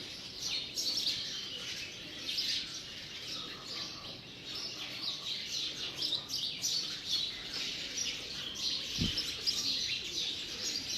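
Faint chirps and tweets of sparrows mixed with soft pigeon cooing at a distance, near a bird feeder at a temple, continuous against a quiet outdoor background.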